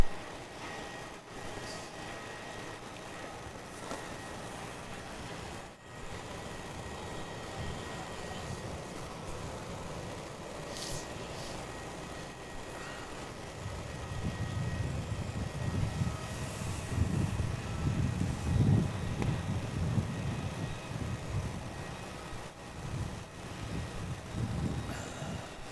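A Jetstar passenger jet arriving on runway 27 at Melbourne Airport at night, a distant engine roar that swells and rumbles louder in the second half over steady background hum.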